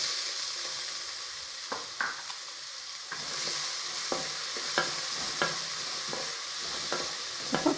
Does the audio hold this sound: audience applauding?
no